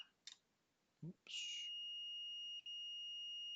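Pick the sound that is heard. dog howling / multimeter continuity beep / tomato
multimeter continuity beep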